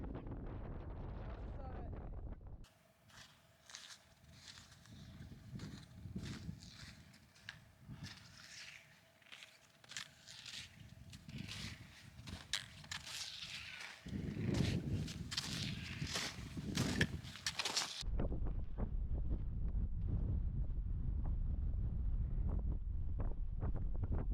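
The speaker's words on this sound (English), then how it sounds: "Taking a break for a sec behind this rock to get out of this wind." Strong wind roars over a microphone on a high Arizona mountain, with heavy low buffeting, footsteps and rustling in between, and a voice speaking partway through.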